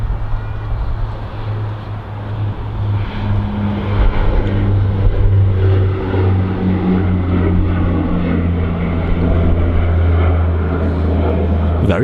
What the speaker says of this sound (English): That was like a buttery takeoff.